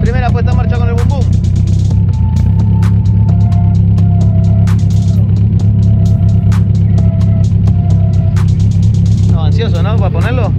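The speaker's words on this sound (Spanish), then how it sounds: "Primera puesta en marcha con el Boom Boom." A VW Gol with a newly fitted exhaust starts up and idles with a loud, deep, steady rumble close by, holding a constant throb throughout while people talk over it.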